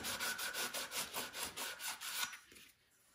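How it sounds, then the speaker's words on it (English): Rhythmic abrasive rubbing of a sanding sponge on copper, steady back-and-forth strokes for about two seconds, then it stops into near silence. "just kind of polish that up a little bit with a sanding sponge."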